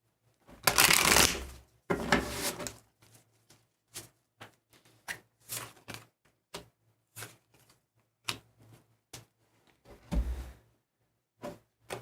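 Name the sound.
shuffling a deck of tarot cards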